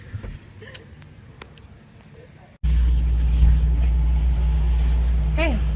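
A car drives along a road on São Tomé island, its steady engine and road rumble loud and continuous after an abrupt jump in level, with brief voices earlier and a faint rising chirp near the end.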